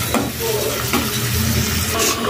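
Diced tomato pieces frying in hot oil for a mixed vegetable curry, giving a steady close sizzle with a few light stirring clinks and scrapes across the short stretch.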